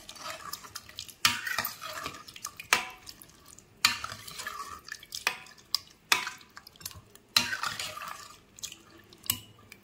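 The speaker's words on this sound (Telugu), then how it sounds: "ఇంకొకసారి మొత్తం కలుపుకొని" Tomato dal mixture stirred in a pot with a little water and a small lemon-sized portion added, giving repeated scraping, sloshing strokes in bursts close by, with no talk.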